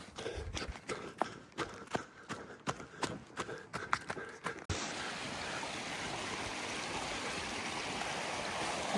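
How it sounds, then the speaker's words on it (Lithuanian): A creek flows beside a trail during a 21 km trail run in Vilnius. Quick, rhythmic footsteps on the trail come first, then a steady, loud rush of flowing water fills the rest. "Upelis."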